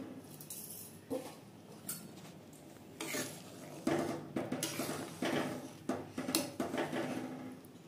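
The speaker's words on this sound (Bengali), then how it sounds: "ঢাকনাটা খুলে দেখে নেব" The lid of a pot of cooking chana dal is handled, producing several close metallic clinks and clatters of cookware that grow busier in the second half, with no talk.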